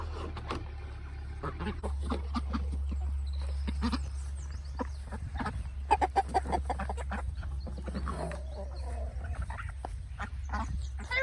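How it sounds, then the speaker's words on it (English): A rooster and chickens cluck and chatter close by in short irregular bursts, with a few quacks from Ancona ducks at a pond mixed in over a low steady hum. "Mean Rooster has claimed this bunch as his own"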